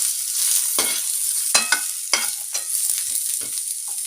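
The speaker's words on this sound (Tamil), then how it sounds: "ஒரு மீடியம் சைஸ் வெங்காயம் சேர்த்துக்கலாம்" Onion sizzles steadily in hot oil with cumin seeds and dried red chillies in a pan, a constant bright hiss broken by several sharp scrapes and clinks of a spoon stirring, close and fairly loud, no voices.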